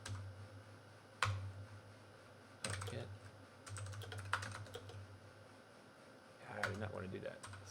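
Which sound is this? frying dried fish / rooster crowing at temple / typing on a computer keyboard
typing on a computer keyboard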